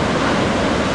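Ocean surf at Anglet breaks in a loud, steady roar of wind-blown wash, dense and unbroken with no voices.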